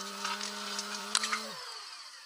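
Kitchen blender whirring in the Toca Kitchen video game, a steady electronic motor hum that winds down after about a second and a half, with a couple of light clicks over it.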